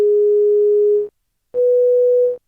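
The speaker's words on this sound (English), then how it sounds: "it's kind of a clean sine wave, so I added this saturation, tape saturation." A sine tone from a Macchiato DIY synth kit, saturated with tape saturation, plays two sustained notes, the second slightly higher, each ending in a short buzzy stutter, with a gap between them.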